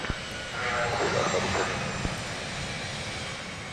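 A Southwest jet airliner landing at Dallas Love Field, heard as a broad, steady engine roar that swells and then slowly fades, with voices talking over it.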